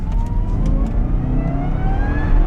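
A supercharged 2013 Cadillac CTS-V sedan engine revs loudly and close by, its pitch climbing steadily through a sustained rev with a dense, rumbling low end and no voices.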